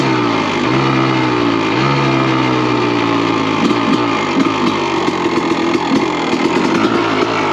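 A Honda 250 CR two-stroke motorcycle engine warming up in the snow, loud and close, with a raspy buzzing idle and small blips of throttle rising and falling throughout.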